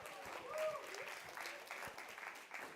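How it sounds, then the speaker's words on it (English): Quiet applause from a church congregation at a Sunday service, an even patter of clapping that swells briefly early on and continues at a low, distant level. "Big round of applause for Ryan Moreno."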